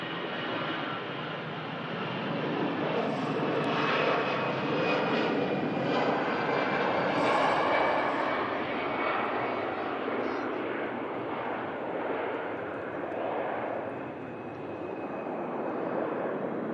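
EasyJet airliner at Manchester Airport, its jet engines giving a steady, loud broadband roar that swells slightly mid-clip and holds throughout, with voices talking faintly over it.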